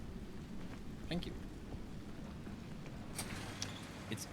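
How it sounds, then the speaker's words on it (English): Rain in the game Pacific Drive, a steady hiss of falling rain with a few brief louder patters and crackles scattered through. "It's always raining when we're coming home."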